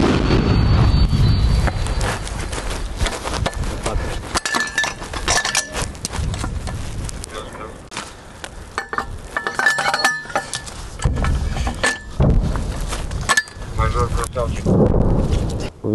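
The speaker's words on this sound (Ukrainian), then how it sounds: "Постріл!" A mounted grenade launcher fires on the front line. Loud, sharp blasts with a broadband roar and rattling debris sound up close. Voices talk at times throughout.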